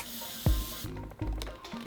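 Short hissing bursts of makeup setting spray misted onto a face, close and soft, a brief spritz followed by a second quieter one.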